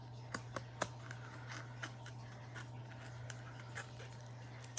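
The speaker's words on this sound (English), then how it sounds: "I'm guessing I have to cut off the circle like that" Scissors snipping a paper circle from a Japanese candy kit, a few crisp close cuts in quick succession followed by softer, scattered snips over a steady low hum, no talking.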